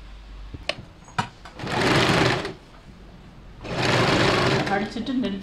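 A sewing machine stitches blouse fabric in two separate runs of fast, buzzing whirr, each lasting a second or two, preceded by a few sharp clicks and quiet handling between bursts.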